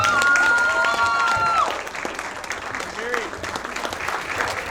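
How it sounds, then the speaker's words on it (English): Wedding guests applaud and cheer for the newlyweds, loud clapping for the first stretch while music with a sustained tone plays, then the clapping thins and softens as scattered voices carry on. "Big round of applause for Mr. and Mrs."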